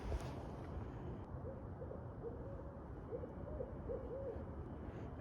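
An owl hoots at night in a short series of soft, low hoots, distant and faint beneath steady wind noise and rumble.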